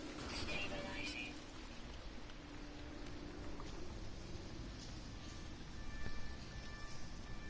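Toxic rain falls on an alien planet in No Man's Sky, a steady, soft hiss of rainfall that continues unbroken throughout, with a faint hum underneath.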